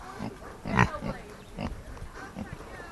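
A pig on a farm grunts and oinks in several short, close bursts, loudest near the start, with livestock noise around it.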